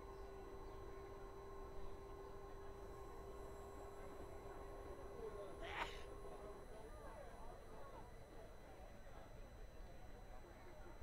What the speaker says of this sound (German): Und da kommt der Gegenzug.